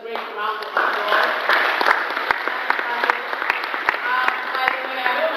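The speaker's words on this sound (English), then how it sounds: "he really deserves a great round of applause" Audience applause after a social media presentation by Basil David Anthony, a steady wash of clapping from a room full of people, with voices talking over it throughout.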